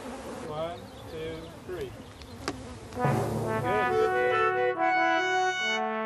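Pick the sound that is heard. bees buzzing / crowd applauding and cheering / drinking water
bees buzzing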